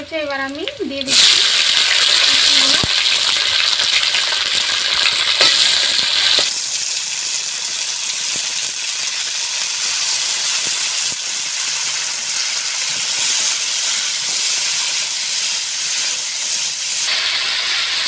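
Water is poured into hot fish-frying oil after green chillies and cumin have been fried. A voice is heard briefly, then a loud hiss of steam bursts up, swells even stronger a few seconds later and carries on as a sustained roar.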